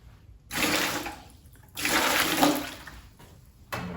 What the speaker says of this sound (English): what I'm going to do is I'm just going to empty our receptacles into the sink.